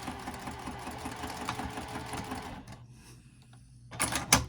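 A sewing machine back stitching a wristlet clutch runs in a steady mechanical whir with rapid needle chatter for a couple of seconds, drops to a quiet lull, then gives a brief loud clattering burst at the end.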